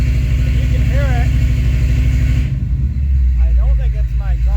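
A 1985 Chevrolet K20 truck engine with its timing off idles roughly with a low, uneven rumble and irregular beat; a voice talks over it, and the tone shifts midway.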